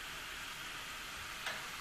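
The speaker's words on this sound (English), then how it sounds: "I've been frying my potatoes here for a couple of minutes" Potato chips frying in hot oil, a steady dense hiss of many small bubbles, continuous and close, with a brief brighter crackle near the end.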